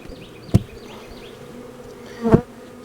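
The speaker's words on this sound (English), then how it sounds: "they got a lot of bees in there" Honey bees buzzing around an open hive holding swarm cells, a steady close hum with a couple of louder buzzing passes as individual bees fly near, no voices.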